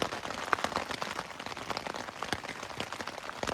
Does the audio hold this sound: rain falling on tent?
yes